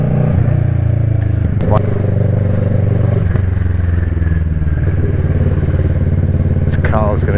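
A motorcycle rides through traffic with a loud, continuous engine drone that shifts pitch as it changes gear, with brief clatter and passing-vehicle sounds near the end.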